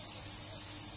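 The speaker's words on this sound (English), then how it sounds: "It's non-sticky spray." Non-stick cooking oil spray released in a short, steady hiss, loud and close, holding evenly for about a second with no voices over it.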